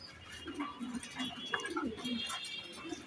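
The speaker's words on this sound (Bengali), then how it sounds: "এরপর রয়েছে এখানে আরও এক pair English Moderna, huge size" Several imported English Modena fancy pigeons of large size coo softly and repeatedly at a pigeon farm, their low throaty calls overlapping in a steady, close chorus with faint background chatter.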